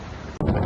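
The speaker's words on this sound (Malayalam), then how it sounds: "കാക്കച്ചി പറഞ്ഞത് കാറ്റാണ് എടുക്കാൻ പറ്റില്ല അങ്ങനെയൊക്കെ കേട്ടോ കാറ്റ് തന്നെയാണ്" Seaside wind at Kanyakumari buffets the microphone in a brief, loud rumbling gust, dropping out for an instant before surging back even stronger.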